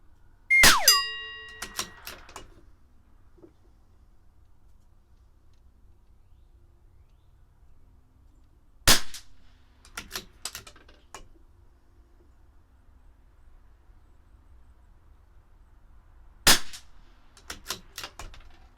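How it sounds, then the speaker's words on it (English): A CZ 457 LRP rimfire rifle fires Eley Match ammunition at an outdoor range, with three sharp, widely spaced shots, each followed by a few faint echoing clanks, otherwise quiet in between. "Let's get to shooting."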